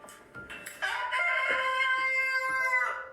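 A pet chicken indoors gives a close, drawn-out, tonal vocalization, rising after a few soft calls and holding steady for about two seconds before fading.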